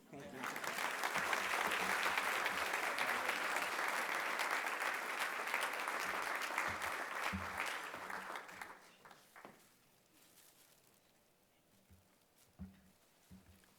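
Audience applause at an awards ceremony, full steady clapping that fades after about eight seconds into a quiet room with a few scattered claps and faint sounds.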